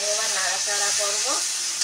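Ginger, green chilli, cumin and coriander paste with turmeric frying in a pan with fig, a continuous close sizzle and hiss as it is stirred, with a faint tonal hum underneath and no talking.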